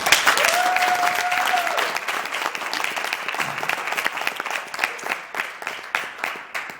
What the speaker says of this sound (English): she deserves a big round of applause